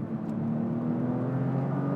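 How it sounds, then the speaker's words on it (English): A Porsche 996 fitted with a CSR EVO exhaust holds a steady low droning engine note, smooth and loud as it cruises, with no one speaking. "the most glorious sounding exhaust on a 996"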